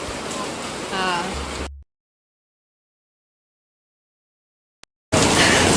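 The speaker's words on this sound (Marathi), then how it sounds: "आता मस्त बघा किती पाऊस आहे" Heavy monsoon rain near the sea in Mumbai hisses as a dense, steady roar under a person talking, cuts out to silence, then returns loudly at the end.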